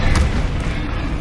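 The Bombarda blasting spell in the video game Hogwarts Legacy lands as a heavy, close boom, one low thudding explosion whose rumble carries through the whole short burst.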